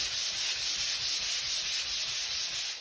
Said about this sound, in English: The first thing you're going to do when you're sanding, you're going to burn your edges down first.